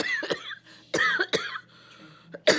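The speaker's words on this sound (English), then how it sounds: "because I knew I was going to start coughing" Four sharp, harsh coughs burst out close by, irregularly spaced over a few seconds, with quiet pauses between them.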